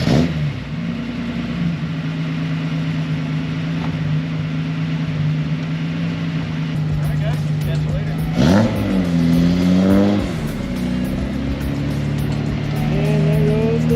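A Datsun 240Z running and pulling away, a steady engine drone that rises in a couple of revving swells, with people talking over it.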